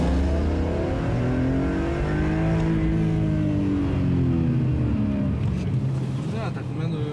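Powerful 343-horsepower car surging along a French motorway in sport mode, a deep rising engine drone with climbing harmonics, steady and loud throughout with road and wind roar, a brief rustle near the end.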